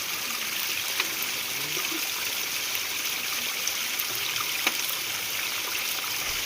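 Mountain spring water on Girnar flows and trickles steadily nearby in a constant splashing rush, with a few soft clicks and no talking.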